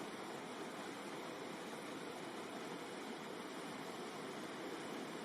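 Rushing river water near a riverbed makes a constant, even hiss with no breaks, faint and steady throughout, with no voices over it.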